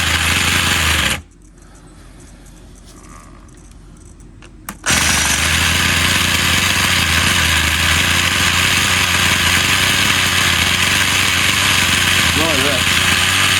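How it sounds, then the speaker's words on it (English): Retro Raptor 30 RC model helicopter, brought back after years of neglect, with its small glow engine running loud and buzzy as it tries to turn the rotor. It cuts out briefly early on, then resumes at a steady, continuous pitch. "Can you feel the engine trying to turn the rotor?"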